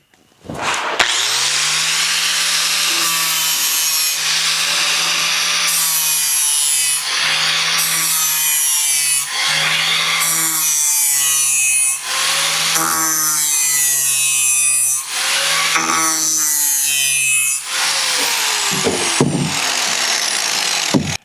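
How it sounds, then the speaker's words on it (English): A metal shovel blade being sharpened with a hand file in steady, even strokes, each pass a loud rasping scrape repeated rhythmically for about twenty seconds with short pauses between strokes. "As I sharpen it, I'm taking even passes across the entire width of the blade."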